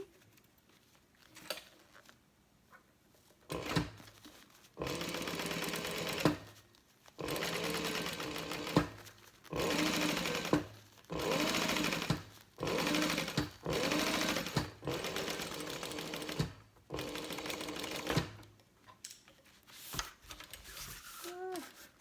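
Sewing machine top stitching a fabric bag, running in a series of sustained bursts of several seconds each with short pauses between, close and steady, with faint movement sounds in the gaps.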